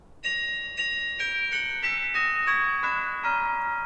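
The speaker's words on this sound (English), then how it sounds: "let's go into the tubular chime and shift that pitch down" Tubular chime voice on an electronic organ, shifted an octave lower, rings out in a sequence of about eight struck notes, each bright metallic tone sustaining and overlapping the next, clear and alone.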